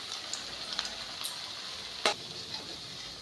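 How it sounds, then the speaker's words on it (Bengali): Shrimp-stuffed fig koftas fry in white oil in a pan over medium flame, giving a faint, steady sizzle with a few soft pops and clicks. "কড়াইতে তেল দিয়ে দিচ্ছি, সাদা তেল বেশ কিছুটা, আর এই কোপ্তাগুলোকে তেলের মধ্যে দিয়ে দিচ্ছি, দিয়ে ভেজে নেব"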